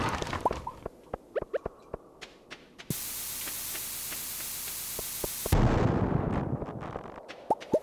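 Bombs going off in a mine in the video game Stardew Valley: a long, loud hiss of noise fills several seconds, broken by a second louder burst, with sharp clicks and small hits scattered before and after.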